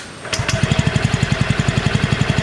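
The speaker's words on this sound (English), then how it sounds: "The engine starts silently and it's always a satisfying feeling when you press the cell start switch." Yamaha Fascino 125 FI scooter engine started quietly with the self-start button, a brief whir followed by a fast, even putter of idle pulses close by, with no talk.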